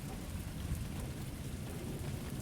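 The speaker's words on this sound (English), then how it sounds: "It's raining a little harder now." Steady, dense rain falls outdoors in summer, a continuous close hiss of drops hitting surfaces that grows a little heavier, with no voices.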